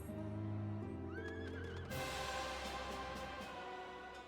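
Horse mounts in Final Fantasy XIV whinny over tonal game music, a rising neigh followed by a bright burst of sound and continuing musical tones.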